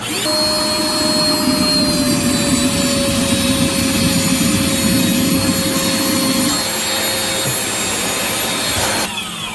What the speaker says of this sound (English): you can use your shop vac to clean out the rest of this thing